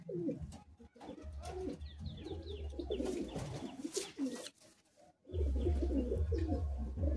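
Madrasi pigeons at a home loft in Bagnan coo repeatedly in low, throaty rolling calls, several birds close by, with a short quiet break midway and no talk.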